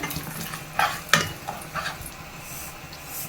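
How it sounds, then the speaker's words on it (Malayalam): Cashew nuts fry in oil in a pan with a soft, steady sizzle, broken by a few sharp clinks and scrapes of stirring near the start, then settling into a low crackle. "ഇതൊന്ന് ഫ്രൈ ആവട്ടെ. കുറച്ച് അണ്ടിപ്പരിപ്പും കൂടെ ചേർത്ത് കൊടുക്കുന്നുണ്ട്."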